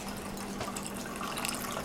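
Seagram's Extra Smooth vodka poured into a glass for a mixed drink, a steady close liquid trickle and fill running continuously for about two seconds with no talk over it.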